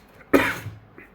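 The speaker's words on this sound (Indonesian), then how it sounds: "tadi batuk sih" A single sharp cough sounds close to the microphone, brief and alone, followed by quiet.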